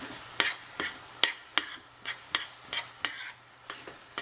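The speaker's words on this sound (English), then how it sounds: "Scrape the bottom of all the spices." Spices scraped and stirred at the bottom of a pot of creamy tomato curry with bok choy and tofu, about a dozen sharp, evenly spaced scraping strokes over a quiet low sizzle.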